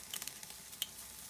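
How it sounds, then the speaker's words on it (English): Soft, crackling sizzle of thin steaks cooking on a grill grate, with faint pops and hiss, fairly quiet and steady. "And now you hear some sizzling"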